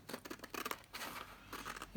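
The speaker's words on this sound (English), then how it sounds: "Let's see if I can cut a straight enough line." Scissors snip through a sheet of printed paper in a series of short, close cuts along its bottom edge, with faint crinkling between strokes and a louder final snip.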